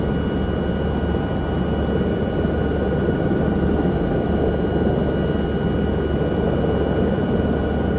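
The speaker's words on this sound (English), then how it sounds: "helicopter flying in VR is so much easier than in 2D." A helicopter flies in a VR flight simulator game over the Alps on a mountain rescue mission, with a steady, loud engine and rotor drone that stays constant throughout, with no talking.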